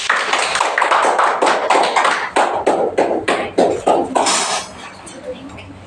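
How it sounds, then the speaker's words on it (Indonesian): A class applauds after a group presentation, many hands clapping loudly in an irregular burst that breaks into separate uneven claps before fading out. "Kita berikan tepuk tangan."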